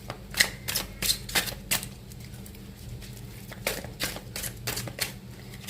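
A deck of tarot cards is shuffled close up in quick, papery riffles and clicks, coming in short bursts with pauses between, quiet and with no talking.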